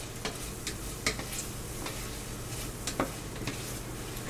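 A spoon stirs mixed vegetables in a hot pan for chicken à la king, with a quiet continuous sizzle and light periodic scraping ticks from the spoon against the pan.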